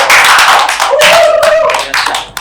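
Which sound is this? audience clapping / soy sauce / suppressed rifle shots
audience clapping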